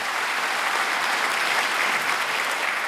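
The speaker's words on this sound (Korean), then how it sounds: "다시 한번 격려의 박수를 부탁하겠습니다" Crowd applause at a rally and launch ceremony, a thick, even wash of many people clapping, steady and fairly distant, with no talk over it.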